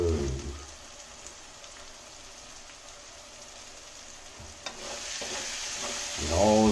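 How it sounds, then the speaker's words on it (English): Hot oil sizzling in a pan while upma is fried and stirred, a continuous crackling hiss with scraping stirs at the start and end that grows louder toward the close. "oil is boiling"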